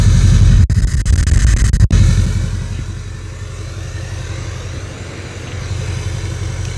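A Duramax LBZ diesel pickup with a Diamond Eye exhaust rumbles with a deep, loud low-pitched drone, a couple of abrupt cuts early on, then settling into a steady idle-like rumble with slight swells.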